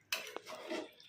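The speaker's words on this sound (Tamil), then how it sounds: "இப்போது உருளைக்கிழங்கு ஆட் பண்ணி நல்லா கிளறி விட்டுரு." Potatoes being stirred into a simmering kurma in a cooking pot: a spoon scrapes and knocks against the metal a few times over about a second, close and fairly clear, with no talking.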